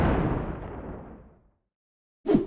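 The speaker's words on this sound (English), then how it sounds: "the sun eventually goes kaboom" A booming explosion, a cartoonish sun going kaboom, starts loud and rolls off over about a second and a half into silence, then a brief muffled thump ends it.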